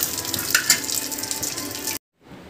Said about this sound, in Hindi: ये देखिए पापा के लिए मैं भून रही हूँ मूँगफली, थोड़ा सा इसमें घी डाला हुआ है और इसको अच्छे से भुनेंगे